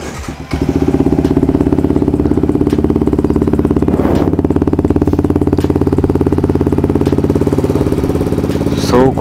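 A Yamaha MT15 BS6 motorcycle, fitted with a new catalytic converter, idles while warming up after its fourth service, a loud steady close-range thrum with a quick rise as it settles near the start.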